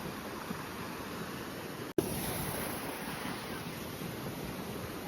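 Sea waves roll onto the shore in a steady, rushing wash mixed with wind buffeting the microphone, with one sharp knock partway through and no talk.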